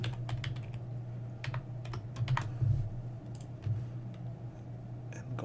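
Password being typed on a computer keyboard: quick bursts of clicky keystrokes in an uneven rhythm, close and fairly quiet over a steady low hum, with no talking.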